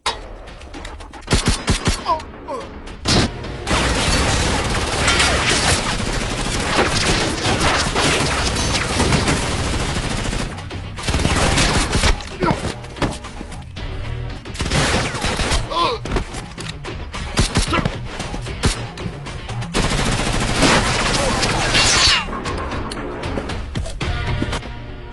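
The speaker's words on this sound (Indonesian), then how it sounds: "Sementara baku hantam dan baku tembakan terjadi." Gunfire during a fight scene in an action film about a woman assassin, dense bursts of rapid shots with booms and crashes running loud and near almost continuously, briefly dropping away around ten seconds.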